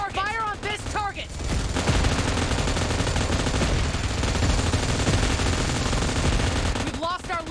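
Video game gunfire rattles in dense, sustained bursts, loud and unbroken through the middle, with game voices calling out briefly at the start and end.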